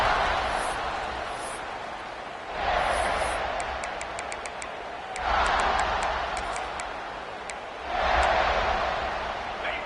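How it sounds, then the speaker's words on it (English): A stadium crowd in the College Football 26 video game keeps up a steady roar that swells loudly three times, at the start, middle and end, with faint whistle-like chirps scattered through it. "this crowd is buzzing after that last score"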